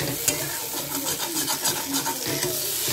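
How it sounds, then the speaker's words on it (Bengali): Mixed vegetables fry in a pan with ground cumin and coriander, a steady close sizzle with the rustle and scrape of stirring throughout, no talk. "1 চামচ জিরের গুঁড়ো দিয়ে এগুলোকে একটু ভেজে নেব সবজিগুলোকে।"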